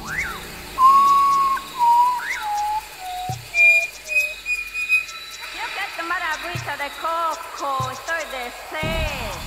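Drawn-out whistles rise and fall over a murky Amazon jungle background, followed by chirpy bird-like calls and low thumps; no one speaks.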